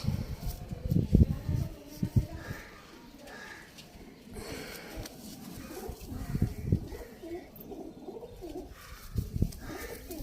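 Breeder pigeons coo in low, throaty rolling calls, close by, between bursts of handling noise and rustling, with someone talking intermittently.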